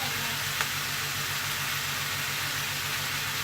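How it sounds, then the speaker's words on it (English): Onions frying for jambalaya in a pan on reduced heat, a steady soft sizzle holding evenly throughout with no talk. "Just let it cook for about 5 minutes, just to let the onions get cooked there."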